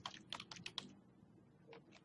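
Quick keystrokes on a computer keyboard while writing a Python programming assignment, a burst of five or six close taps followed by a pause and two more taps near the end, fairly quiet and with no talking.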